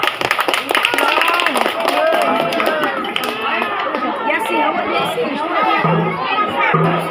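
An audience at an opening Christmas celebration clapping in a dense, busy burst, mixed with lively crowd chatter and shouts throughout.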